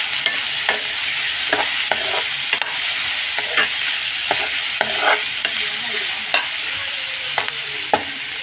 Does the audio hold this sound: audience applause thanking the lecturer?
no